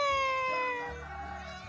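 A pet cat gives a single drawn-out meow close by, a clear tonal cry that slowly falls and fades over a couple of seconds, with faint low background noise.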